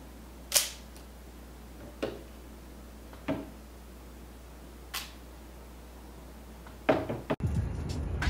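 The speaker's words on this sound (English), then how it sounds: "So the shutter speed on all of these cameras is set to 1/500th of a second, and you can hear for yourself the differences." Shutters on a Robot Royal 24 clockwork square-format 35mm film camera, a Nikon FM3A and a Leica M3, each fired at 1/500 s: a handful of sharp, separate mechanical clicks spaced a second or so apart, close and crisp in a quiet room, ending with a louder burst of handling noise.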